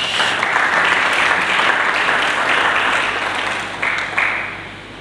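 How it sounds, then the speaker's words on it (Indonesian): A church congregation claps for Jesus in a loud, continuous burst of applause, thick and even at first, with a few sharper claps standing out before it begins to thin near the end. "Berikan aja tepuk tangan bagi Yesus."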